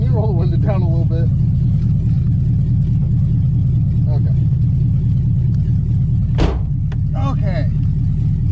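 An LS-swapped Chevrolet Camaro driving, a loud, steady low engine rumble heard from inside the car throughout, with people talking over it and a brief sharp noise near the end.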